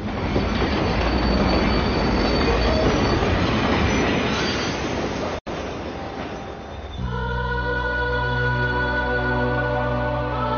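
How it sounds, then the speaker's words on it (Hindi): A train rolling into a railway station, a loud rumbling roar that breaks off, then continues with sustained squealing, ringing wheel tones as it slows, with no voices. "अरे यार, इस ट्रेन को भी इसी वक्त आना था"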